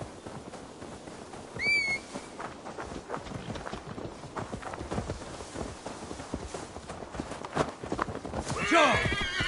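Horse hooves clip-clopping steadily on the ground in the game Assassin's Creed Valhalla, with a brief whinny early on and another neigh near the end, under ambient game sound and occasional voices.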